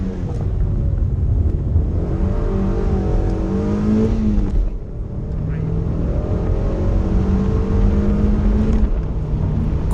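A Mazda MX5 races up the Wiscombe Park hillclimb course, its engine revving hard and loud from inside the car, pitch climbing through the gears with a brief dip at a gear change midway.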